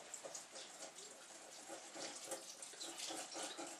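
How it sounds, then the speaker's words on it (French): A litre of milk pours steadily into crêpe batter in a bowl, a continuous close liquid splash and trickle that keeps going without pause and without anyone talking. "Edwige va me verser le litre de lait"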